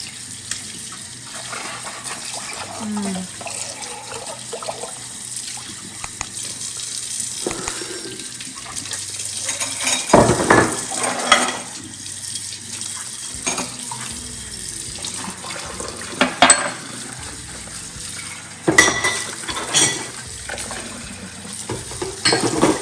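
A 12-year-old boy washes dishes in the evening under a running kitchen tap: steady water flow close by, broken by occasional clinks and splashes of handled dishes, with no talking.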